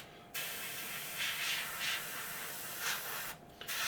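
An airbrush sprays thin paint across a model panel, a soft continuous hiss that swells in several short passes and cuts off briefly at the start and near the end.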